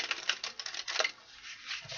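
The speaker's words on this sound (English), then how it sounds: "And boy, did I shuffle these cards." A deck of tarot cards is shuffled by hand, giving a quick run of soft, crisp riffling flutters and taps that sound close and fairly quiet, with a brief pause partway through.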